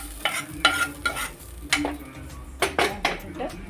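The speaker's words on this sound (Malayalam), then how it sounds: "ഇട്ടിട്ട് നന്നായിട്ട് ഇളക്കണം." Spoon stirring a mustard-seed tempering into Kerala-style papaya thoran in a pan, giving a string of close, sharp scraping clicks and knocks in an irregular rhythm over a faint background.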